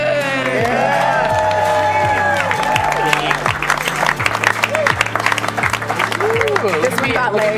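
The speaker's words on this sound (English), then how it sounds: "big round of applause for your champions of Javelina" Crowd applause and cheering for a race champion at an ultramarathon desert party, loud continuous clapping with whoops and shouts, under thumping music with a steady bass beat.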